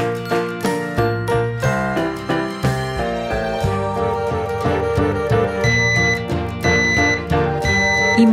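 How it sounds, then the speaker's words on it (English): A smoke alarm sounds a loud, close chiming pattern of clear tones that repeats in short cycles, with higher beeps added partway through. "There's smoke in the dining room. Smoke alarm hushed."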